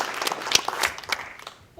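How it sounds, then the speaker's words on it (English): A round of applause from the audience at an annual meeting, brief scattered clapping from a modest crowd that fades out quickly. "give him a round of applause"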